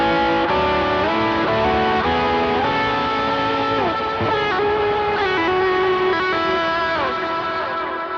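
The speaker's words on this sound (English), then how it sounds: "Now with the boost, it's going to sound like this." Electric guitar played through a boost pedal for a worship tone, sustained chords and sliding notes ringing out loud and bright with a touch of drive and echo, steady for about eight seconds with no talking.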